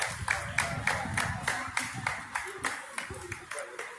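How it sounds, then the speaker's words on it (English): A crowd claps along in a steady rhythm at an outdoor Pride event, the regular claps standing out over continuous talking and general crowd noise. "And they're clapping."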